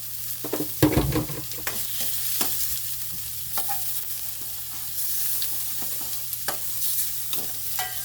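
Tomatoes and ginger sauté together in a pan, giving a soft steady sizzle broken by frequent scraping stirs and one louder clatter near the start. The sound is close and there is no talk.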